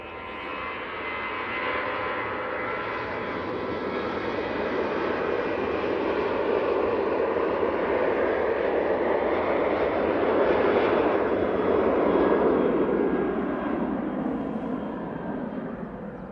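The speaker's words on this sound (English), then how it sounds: "ET Fairways 737-800 off to Rome." Boeing 737-800 jet of ET Fairways taking off at Manchester Airport bound for Rome, a broad engine roar swelling gradually, peaking and then easing slightly as the aircraft climbs away at a distance.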